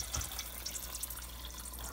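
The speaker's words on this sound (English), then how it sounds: "I got about 12 ounces of water here. I'm going to put this in this can" About 12 ounces of water poured into an empty crushed tomato can to rinse it out, a soft, quiet trickle with faint splashy tinkles near the mic and no voices.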